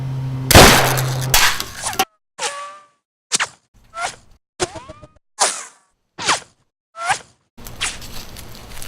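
A single loud, close gunshot cracks out, followed by a string of short, sharp clicks and chirpy pops spaced a second or so apart, with no talk.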